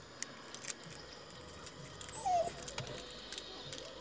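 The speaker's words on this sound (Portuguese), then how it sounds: "Tem um cachorrinho chorando aqui." A small dog gives a brief, faint whimper, a thin rising whine near the middle, set against quiet game sounds and light clicks.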